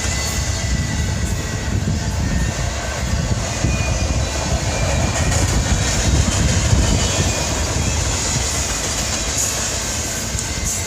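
A train rolls past nearby at Whiskeytown Lake, a loud, continuous rumble and clatter of wheels on track that swells slightly midway.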